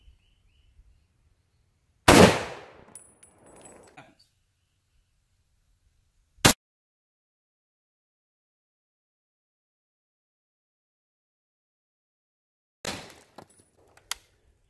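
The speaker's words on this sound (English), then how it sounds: "Let's shoot it with the 30-06 steel core and see what happens." A 30-06 steel core rifle round strikes an AR550 steel armor plate at a range, giving one loud sharp crack with a short ringing decay. A quieter sharp report follows a few seconds later, then faint distant knocks near the end.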